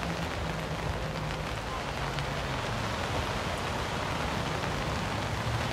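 Rain falls steadily at Cottesloe Beach, Australia, a dense, even patter that stays at one level throughout, with no other sound standing out.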